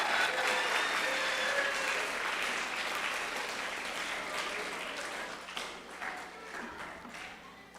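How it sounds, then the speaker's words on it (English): A school assembly audience applauds sixth grade Outstanding Scholars: dense, steady clapping from a large crowd that slowly thins and fades toward the end, with no voices over it. "Let's get a big round of applause for all our 6th grade Outstanding Scholars"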